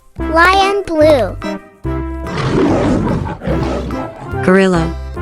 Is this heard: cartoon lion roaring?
yes